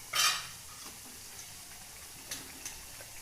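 A ground masala of onion, coconut, garlic and coriander fries in a pan with a soft, steady sizzle, opening with a loud scraping clatter of the spoon and followed by a couple of lighter scrapes.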